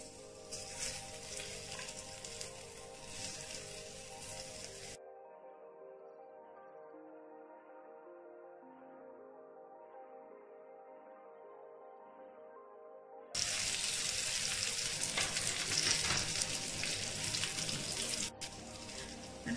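Batter fried in small batches in a pan, a continuous hiss of frying that drops to a quieter, muffled stretch midway before the loud bright sizzle returns.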